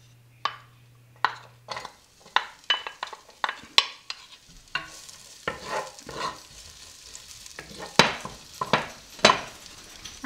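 Garlic tossed into a hot pan while cooking pansit bihon, with irregular stirring scrapes and clinks of a utensil against the pan over a steady close sizzle that grows louder partway through, no talking.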